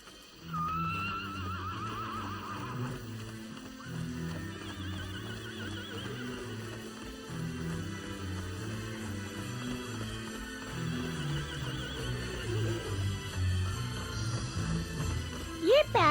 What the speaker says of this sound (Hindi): बच्चों जल्दी आओ, यहाँ एक और घोड़ा है।